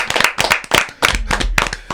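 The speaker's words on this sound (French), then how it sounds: "Applaudissements pour ML" Studio audience clapping on a French talk show as a guest is welcomed, a dense burst of hand claps that dips briefly then swells again, close and lively with no talking.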